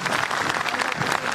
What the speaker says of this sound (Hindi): तो एक बार जोरदार तालियां हो जाए इनके लिए।